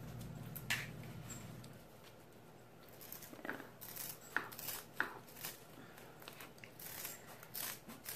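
Scissors snipping through stiff material for wine barrel wall decor: a few faint, scattered crisp cuts and small snaps, irregularly spaced, quiet against a hushed room.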